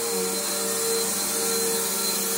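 A Bissell Powerforce bagged vacuum cleaner runs steadily over carpet with a close, constant motor whine and airy rush that holds without a break.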